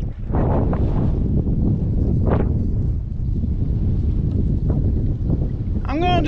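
Strong wind buffets a microphone out on the water during a kayak outing, a loud, continuous roar with gusts, and a voice briefly speaks at the end.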